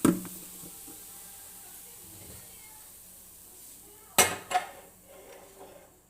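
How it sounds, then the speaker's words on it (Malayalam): A dosa griddle (tawa) is set down on a home kitchen stove with a sharp metallic clank around the four-second mark, followed by a few lighter knocks and scrapes in an otherwise quiet room. "ദോശക്കല്ല് വെച്ച് കൊടുക്കണം"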